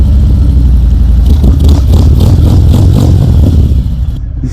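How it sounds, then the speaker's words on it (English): Harley-Davidson Fat Bob 114 motorcycle engine idles with a loud, deep rumbling lope, then gets blipped in quick pulsing revs before settling and cutting out, close to the machine and with no talk. "You always got to give it a couple good revs, just because you're a Harley rider."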